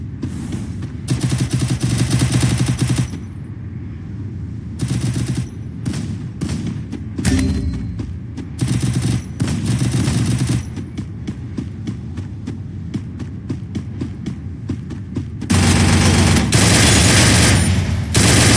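Dense rapid gunfire from the video game KAMI, sustained bursts and fusillades with a low throbbing hum beneath, pausing briefly between volleys and swelling loud again toward the end.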